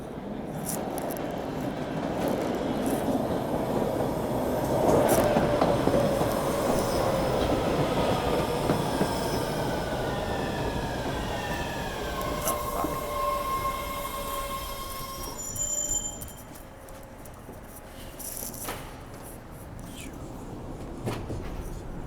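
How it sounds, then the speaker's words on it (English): A subway train pulls into an underground platform, its steady rumble swelling and then easing as the wheels screech and squeal in high, drawn-out tones, with faint voices in the background. "here comes the train."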